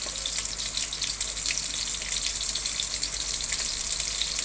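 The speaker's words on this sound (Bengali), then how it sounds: "এগুলোকে এবার আমি ফ্রাই করছি।" Pointed gourd (potol) frying in oil in a kadai gives a steady, even hiss of sizzling that stays constant throughout, close by and with no voices.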